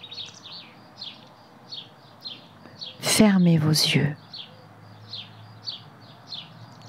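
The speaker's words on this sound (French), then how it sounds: "nous entendons le chant des oiseaux" Small birds sing nearby in short, repeated chirping phrases at a steady pace. Partway through, a voice speaks calmly in French over the birdsong for about a second.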